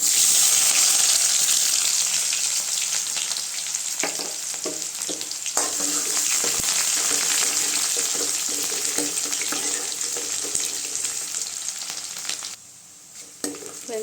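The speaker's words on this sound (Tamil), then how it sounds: "அடுத்து வெங்காயம் சேர்த்துக்கலாம்." Onions and curry leaves sizzle steadily in hot oil in a pan while cooking a spicy brinjal kara kuzhambu, loud and close, with occasional stirring clatter and no talking.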